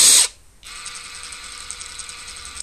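Draper 3/4 inch brushless impact wrench slowly winding off a nut, a short loud burst, a brief pause, then a steady whirring spin with faint ratcheting flutter, close up.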